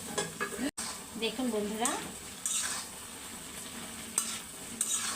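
Winter vegetables with dried fish are stirred in a pan: a sizzling fry with spatula scrapes and clinks, close and fairly loud, and a brief voice speaks near the start.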